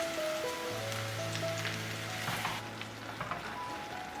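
Marinated fish pieces drop into a hot clay pot with oil, garlic, ginger and enoki mushrooms, setting off a steady close sizzle with faint clinks and no talk.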